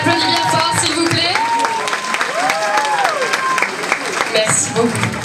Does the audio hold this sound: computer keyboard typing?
no